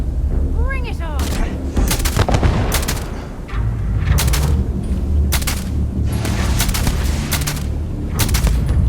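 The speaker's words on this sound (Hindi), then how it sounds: "इसके लिए निकालते हैं हंटिंग राइफल। चलिए हेडशॉट।" Loud hunting rifle shots ring out in the video game Starfield, several sharp blasts spaced a second or two apart over a steady rumbling game soundtrack.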